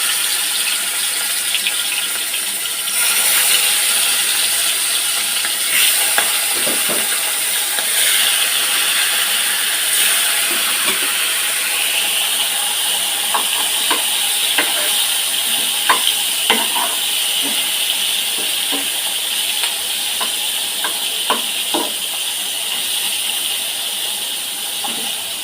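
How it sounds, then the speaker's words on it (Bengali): Fish belly pieces frying skin side down in hot oil, a steady loud sizzle throughout, with occasional stirring and clinks of a utensil in the pan. "আমরা যখন মাছের পেটি ভাজবো সে সময় এই যে এই উল্টো পিঠ মাছের চামড়ার পিঠটা আগে দিব"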